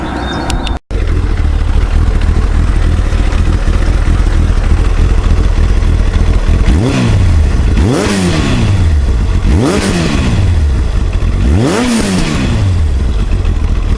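Kawasaki ZX7R sport motorcycle engine running steadily close by, then revved hard four times in a row, each blip climbing and falling back to a loud idle.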